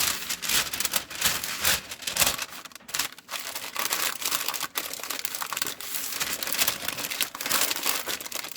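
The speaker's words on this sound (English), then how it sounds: "Now we're going to take our paper" Paper crinkled and crumpled by hand while shaping a homemade nut roll, a steady dense rustling with sharp crackles running throughout at close range, no talking.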